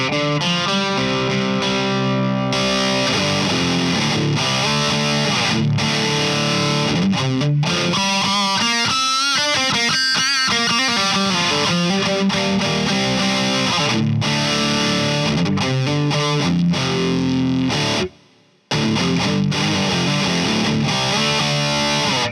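Electric guitar through an overdrive pedal set like a Tube Screamer, chords and riffs ringing out loud and saturated, with a busy gritty passage midway and a brief gap near the end.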